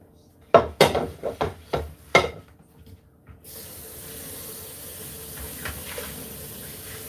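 Dishes clatter in a sink in a string of sharp knocks, then a tap runs in a steady hiss of water with faint clinks under it; the person washing wears gloves.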